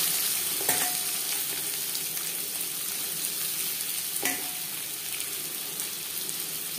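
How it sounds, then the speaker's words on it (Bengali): Chopped onions frying in oil left over from frying fish, a steady soft sizzle with a couple of sharp clinks from stirring, fairly quiet and close. "মাছ ভেজে নেওয়া তেলে দিয়ে দেবো পেঁয়াজ কুচি"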